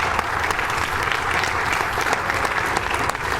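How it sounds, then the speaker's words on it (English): A steady wash of audience applause at a live video game speedrun marathon event, many hands clapping continuously without pause. "I think that deserves some applause"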